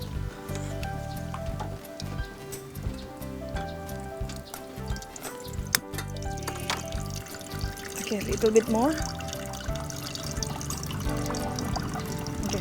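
Water pours into a pot for blanching in a home kitchen, a continuous splashing trickle that swells and rises in pitch as the vessel fills, under background music while someone talks briefly.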